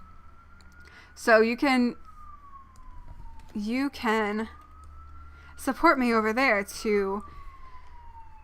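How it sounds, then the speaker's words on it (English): Emergency vehicle sirens wail steadily outside, a long sweeping tone running under intermittent speech throughout. "sorry about the sirens if they're really loud."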